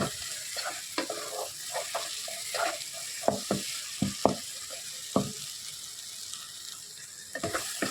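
A spoon stirs mutton curry masala in a hot pan, making a series of scraping, clattering strokes over a soft, continuous sizzle, close and uneven in rhythm.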